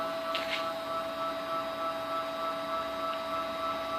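A small hobby CNC mill jogging its X axis back and forth, heard as a steady whirring machine hum with a couple of faint higher stepper whines, continuous and fairly quiet, with no talking.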